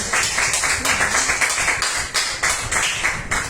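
A church congregation claps together in a loud, close, rhythmic unison, with regular beats repeating steadily, a little uneven in places.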